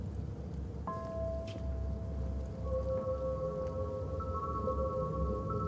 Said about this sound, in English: It's like, it's raining.